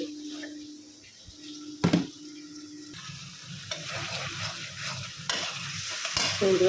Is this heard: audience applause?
no